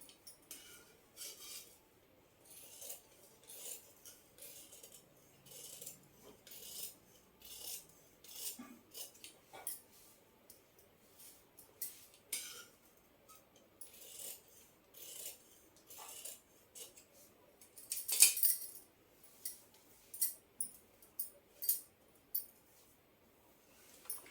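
Scissors cut through fabric for a lehenga blouse, giving quiet, close, irregular snips and rustles with short pauses and one sharper crunch near the end.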